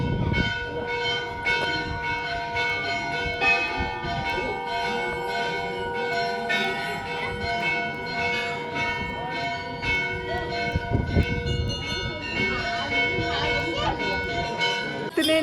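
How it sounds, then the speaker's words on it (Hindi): Many temple bells ring continuously during aarti at Golu Devta Temple in Uttarakhand, a dense metallic clangour of overlapping strikes sustained throughout, with voices of worshippers mixed in. "आरती के टाइम सब यहाँ पर लाइक कंटिन्यूसली घंटी बजा रहे होते हैं।"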